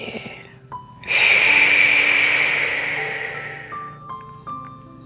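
A long, breathy exhale during a guided relaxation breathing exercise, a soft airy rush that starts abruptly, stays fairly close and slowly fades over a few seconds, with faint tones and a quiet hum behind it.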